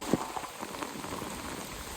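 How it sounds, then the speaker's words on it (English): Heavy rain pouring in the Amazon rainforest along the Napo River, a dense steady hiss of drops on leaves and surfaces, fairly soft and even with a few sharper nearby splats. "It was raining so much that despite having the rain ponchos, we got soaked"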